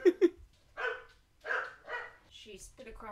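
A dog barks twice in quick succession close by in a backyard, followed by quiet talking voices.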